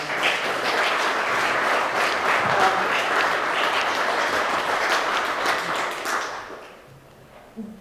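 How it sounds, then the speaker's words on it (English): An audience at a community event on the Jewish history of Birkenhead gives a round of applause, dense steady clapping that fades out near the end. "Round of applause for Robin."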